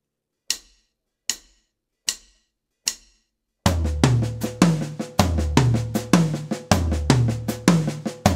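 Drum kit playing a two-beat sixteenth-note phrase across floor, mid and high toms: four isolated sharp hits spaced evenly, then a continuous fast run of resonant tom strokes in a steady repeating pattern, close and loud.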